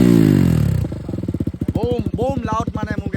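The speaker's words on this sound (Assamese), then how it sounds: "মোৰ বাইকখনৰ চাউণ্ড চেক কৰা গাইজ" A motorcycle fitted with a slip-on bend pipe exhaust revs loudly up close, its engine pulsing in rapid firing beats that rise and fall through several throttle blips.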